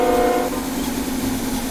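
Minecraft steam locomotive pulling away, a short burst of chugging rail noise with a brief whistle-like tone at the start and rolling train clatter after it, fairly loud and with no one talking.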